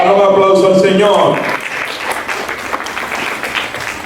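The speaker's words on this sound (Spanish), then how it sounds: "Dale un aplauso al Señor." Church congregation applause swells after a voice fades out at the start, leaving a steady, fairly loud wash of clapping with scattered sharp hand claps.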